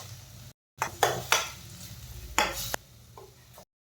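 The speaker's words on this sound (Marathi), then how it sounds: "छान हे मसाले परतून घ्यायचे आहेत" Garam masala, red chilli powder and turmeric stir-fried in a pan for tondli bhaji: a few sharp scrapes and clinks of a spoon against the pan over a soft sizzle, with short silent gaps.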